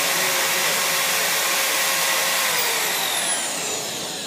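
A Junker vibration test machine shakes a bolted nylon nut, producing a loud, steady mechanical whir and buzz that holds for several seconds before easing slightly at the end.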